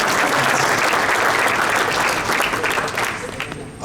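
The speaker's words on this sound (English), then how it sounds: "I'd like to give Mike Wine, Sal Anzalone, and Chad Warwick a round of applause for House of Lord" A fraternity Founders Day audience gives a round of applause, dense clapping close and loud that fades slightly toward the end.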